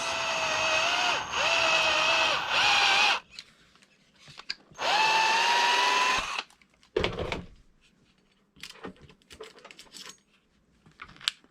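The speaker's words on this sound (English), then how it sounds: "Now I'm taking that off, drilling the last hole." A power drill whines loudly in two sustained bursts, pitch sagging as it bites into material while drilling a hole for an RC car wing mount, followed by scattered clunks and handling noises.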